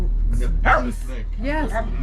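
A dog barks and yips in short, close bursts aboard a boat, with a steady low hum underneath.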